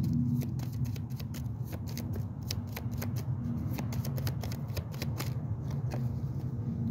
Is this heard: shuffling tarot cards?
yes